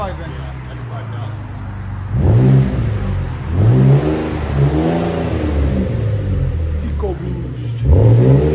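A 3.5L EcoBoost V6 in a 2011-2019 Ford Explorer revs through an X-pipe exhaust with true duals, giving a deep mid-pitched tone that swells in several blips, with voices talking over it.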